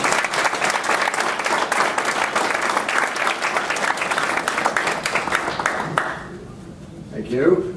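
An audience at a university transition ceremony breaks into sustained, dense applause that fades out, followed by a voice starting to speak.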